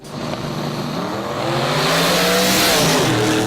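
Race car engine roaring at high revs while the tires squeal as the driver loses control, a loud, sustained surge that swells and rises in pitch over a few seconds.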